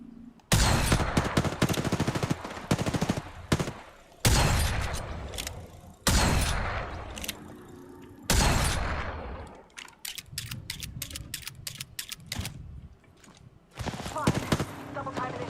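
Rapid bursts of video game shooter gunfire, loud and close, firing in repeated volleys with brief gaps and a run of quick single shots near the end, with game voice callouts mixed in.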